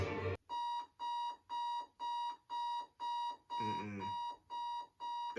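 An alarm beeps in a steady pulsing pattern, about nine evenly spaced loud electronic tones, with a brief voice over one of them.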